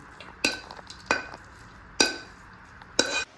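A cooked filling mixture is scooped from a pan onto a plate, heard as four distinct, close scraping clinks of a spoon against metal, spaced about a second apart over a quiet background.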